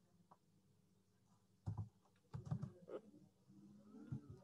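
Keystrokes on a computer keyboard as numbers are typed into a form field, a few separate bursts of clicks at close range with quiet pauses between them.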